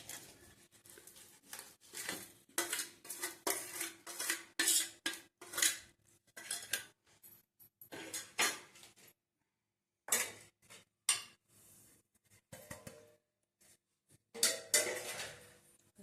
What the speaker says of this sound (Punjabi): ਹੁਣ ਆਪਾਂ ਇਹਨਾਂ ਨੂੰ ਚੰਗੀ ਤਰ੍ਹਾਂ ਹਿਲਾਵਾਂਗੇ ਜੀ ਸਾਰਾ ਕੁਝ ਰਲਾਉਣ ਵਾਸਤੇ